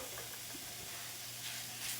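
Onions cooking down in a pan for an old-fashioned onion pie give a soft, steady sizzle with a faint stir partway through, quiet and continuous with no talking.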